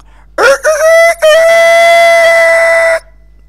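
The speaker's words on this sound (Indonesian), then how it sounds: "Dengan suara kokok ayam, semua penduduk terbangun" A rooster crows loudly and close by, a rising call that breaks briefly and then stretches into a long, sustained cock-a-doodle-doo.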